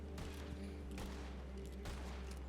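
Gunfire in Red Dead Redemption 2 on the WildRP roleplay server, a desert shootout: a few faint, distant shots crack over a steady low game ambience, with no voices over them.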